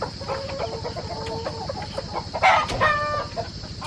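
Backyard farm chickens eating in the dark cluck and murmur steadily nearby, with a louder burst of squawking calls partway through.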